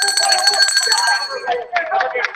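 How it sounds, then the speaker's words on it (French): A single bell stroke rings out clearly and then decays into a lingering tone while someone speaks over it. "Moi, nous mettons un coup de cloche."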